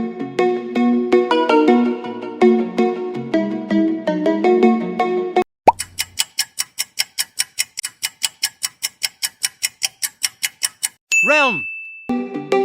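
A Realme smartphone ringtone plays loudly on its own: a dense, bright synth melody, then a quick run of evenly spaced ticking clicks, ending with a sweeping chime that glides down in pitch.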